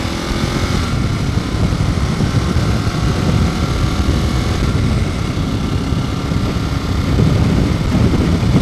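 A Ducati 1098 motorcycle engine winding out in first gear, a loud, steady, continuous roar held close without a break and with no talking.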